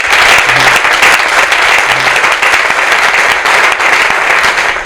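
Loud, dense applause from a comedy show audience in Lubumbashi, many hands clapping steadily throughout with no break, close and filling the room.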